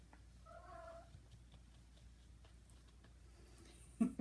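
A domestic cat purring softly and steadily at close range in a quiet room, a low rumbling texture that stays faint throughout, with no voices.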